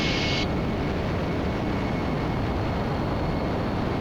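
Jet aircraft engine at full throttle during a fighter-style jet flight on approach with full flaps, a steady loud broadband roar heard from inside the cockpit, continuous throughout.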